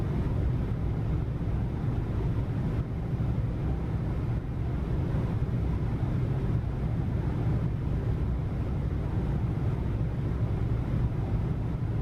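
Steady, droning engine hum from a Piper Aerostar 600 twin-engine aircraft in a flight simulator game, a constant low rumble that holds at an even level for the whole stretch with no talking.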